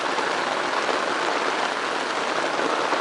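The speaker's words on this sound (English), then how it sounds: "what a nice rain" Steady rain drums on a tarp stretched over a hot tent camp, a dense, even hiss close overhead with no voices.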